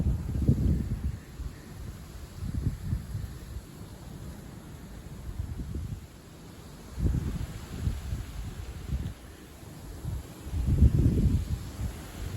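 Turbulent south-east wind gusting at night, arriving in irregular low rumbling bursts that buffet the microphone, with quieter lulls between the gusts.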